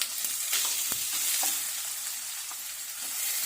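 Crushed coconut hits a pan of dried red chilies and curry leaves, giving a steady, close sizzle with a few light stirring knocks throughout.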